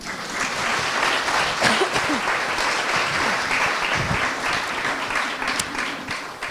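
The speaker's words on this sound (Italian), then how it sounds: "fatevi un applauso" An attentive audience at the Festival delle Idee 2024 applauds itself during a talk with Frida Bollani Magoni: a full, sustained round of many hands clapping, loud and continuous for over six seconds.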